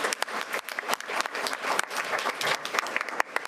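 An audience at a school board of education meeting bursts into sustained applause, dense rapid clapping from many hands filling the room for several seconds, with a few faint voices mixed in.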